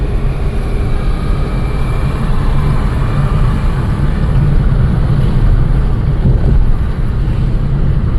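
A car being driven during a driving lesson, with a steady loud rumble of engine and road noise and heavy wind buffeting throughout, no clear changes in pace.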